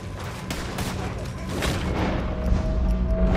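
Gunfire in Red Dead Redemption 2, a dense fusillade of rapid shots and booms building in intensity over a few seconds, with voices speaking underneath.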